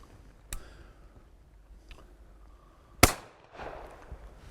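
A shotgun fired during a double-gun shooting session, with one gun handed to the shooter while the other is loaded: a faint early report, then one sharp, loud blast that rings out and decays over the following second.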